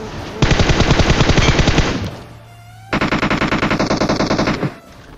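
Rapid automatic gunfire in a mobile shooter game, in two loud sustained bursts separated by a brief lull, close and dominant with no talk.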